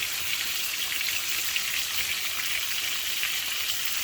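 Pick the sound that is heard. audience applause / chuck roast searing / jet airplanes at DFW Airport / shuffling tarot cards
chuck roast searing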